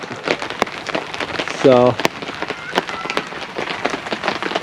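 Rain beats steadily on a tent in the Colorado backcountry, a dense patter of drops with occasional sharper taps, while a voice speaks briefly.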